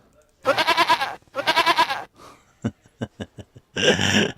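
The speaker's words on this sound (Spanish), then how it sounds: "¿Y los chivos?" Goats bleat twice in loud, wavering cries, then a series of short choppy bleats and one more strained call close by.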